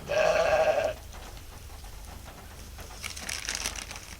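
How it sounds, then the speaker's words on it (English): A grumpy sheep in a barn gives one loud, close, wavering bleat at the start, followed by quieter rustling and shuffling barn noise. "Excuse the grumpy sheep. We do have grumpy sheep."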